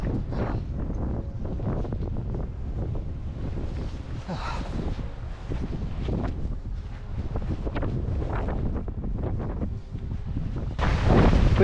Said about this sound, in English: looking forward to getting out of this wind